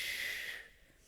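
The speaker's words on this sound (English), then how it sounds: "So inhale, and then exhale." A single breathy exhale during a lunge exercise, a soft airy hiss close to the mic that fades out after about half a second into quiet.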